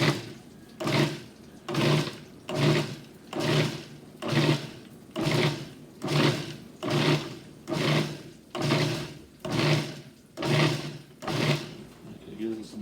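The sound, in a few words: food processor pulsing basil for pesto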